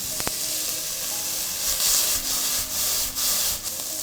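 Salted onions fry and sizzle in a pan, with steady close frying hiss and a few scraping stir strokes from a utensil against the pan, no talking.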